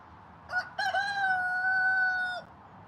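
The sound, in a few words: chickens clucking and crowing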